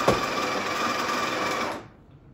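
The built-in burr grinder of a Breville Barista Express BES870BSS espresso machine grinds coffee beans at a fine setting, a close steady mechanical whir lasting under two seconds before cutting off abruptly into quiet.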